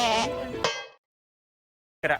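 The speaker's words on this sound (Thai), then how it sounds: "แพะ" A goat bleats loudly and close in a long wavering cry, then falls silent before a second brief bleat starts near the end, with no talk over it.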